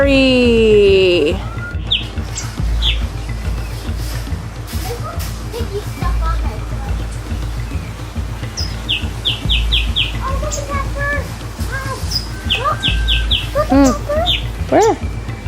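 Birds chirping and squawking inside a hummingbird aviary, scattered short calls near and far over a steady background, with people talking throughout.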